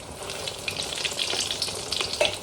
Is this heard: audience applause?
no